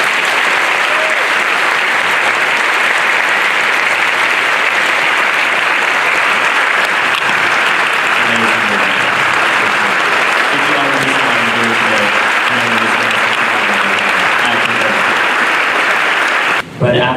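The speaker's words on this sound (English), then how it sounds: "So I would like us to give a round of applause." A large audience at a gun reform rally gives sustained, steady applause lasting the whole stretch, with a low murmur of voices beneath the clapping.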